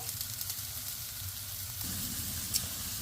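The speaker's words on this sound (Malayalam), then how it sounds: "വെണ്ടയ്ക്ക ഇട്ടിട്ട് ഒന്നൊന്ന് വഴന്നോട്ടെ കേട്ടോ" Okra sautés in masala in a pan for a Kerala home-style dish, giving a steady, close sizzle and frying crackle that holds throughout with a slight stir partway through.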